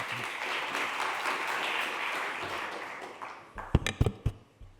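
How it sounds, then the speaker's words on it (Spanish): Applause from a conference audience at a talk on synthetic versus human voices, a broad wash of clapping that fades out before a few close, sharp taps or knocks near the end. "Un aplauso para Toni y adelante."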